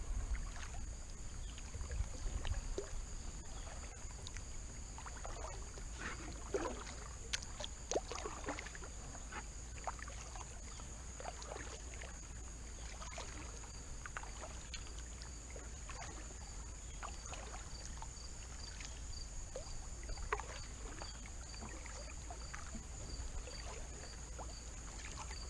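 Kayak paddling on Prettyboy Reservoir in the rain, with soft, steady paddle strokes and water trickling and dripping close by under a constant wash of rain and light wind, with no talking.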